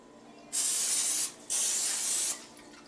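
Two loud, hissing sprays from a spray bottle onto sushi, each lasting under a second, with a short pause between them.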